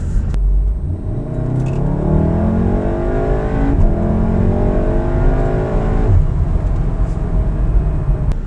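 A Golf R engine with a Eurodyne Stage 1.5 tune rumbles steadily with rising, revving pitch as the car accelerates, loud and close throughout with no talking.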